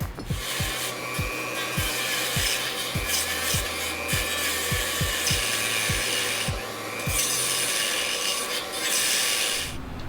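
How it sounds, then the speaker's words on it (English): Steady harsh rasping and grinding of rusted sheet metal being cut from a classic truck's windshield frame, continuous and close, with a regular low thumping pulse underneath. "I'm gonna cut this out, preserving as much good metal as I can"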